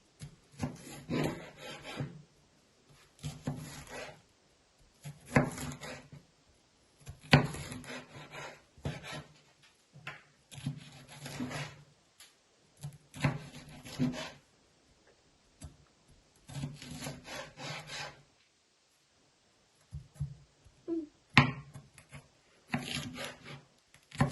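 A knife slices bell pepper very thinly for pizza on a cutting board, giving repeated bursts of scraping, rasping strokes separated by short pauses, close and fairly quiet, with no talking.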